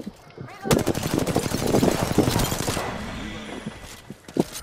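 Sustained automatic gunfire from the Apex Legends battle royale game, a dense rapid rattle of shots running for several seconds, then fading out with a final isolated shot.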